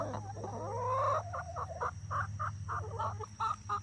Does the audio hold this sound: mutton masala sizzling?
no